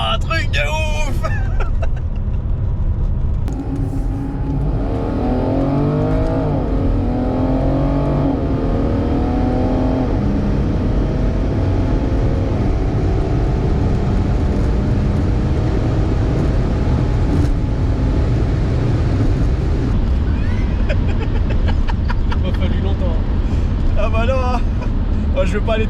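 A BMW X5 on a race circuit, its engine droning and climbing in pitch as it accelerates, with a sustained loud rumble inside the cabin while occupants talk over it throughout.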